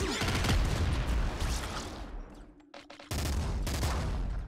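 A nuke launcher fires in Nuclear Throne: a loud, rapid burst of blasts, a short quieter gap with a few clicks, then another dense explosive barrage.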